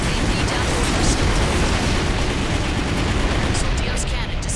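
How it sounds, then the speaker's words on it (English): Soldios cannons in Armored Core 4 Answer pound away amid dense, continuous explosive rumble and gunfire, a loud unbroken wall of battle noise with voice chatter mixed in. "Careful, those Soldios cannons are operating autonomously."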